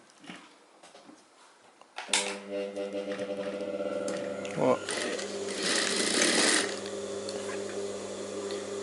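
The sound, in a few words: sewing machine stitching a blouse fabric strip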